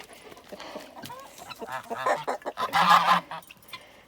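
Several geese honk loudly and repeatedly nearby, their calls overlapping and growing more insistent toward the end.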